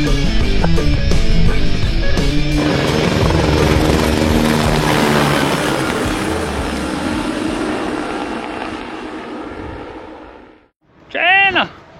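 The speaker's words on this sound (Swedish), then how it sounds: "vi står här och väntar på en helikopter" Helicopter arriving at a mountain lake, a broad loud rotor and engine roar that builds close by and then fades, with a brief voice at the end.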